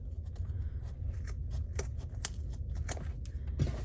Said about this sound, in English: so you can just trim your zipper